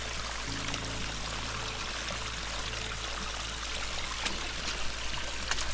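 Clear stream water on a mountain trail near a volcano in Chaitén flows in a steady, close, full rushing babble that continues evenly throughout, with no voices.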